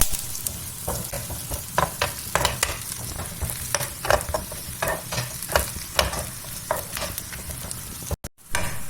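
Grated coconut with curry leaves roasts in a hot pan. A spatula scrapes and stirs in a steady rhythm of short strokes over a low, dry sizzle. No one speaks.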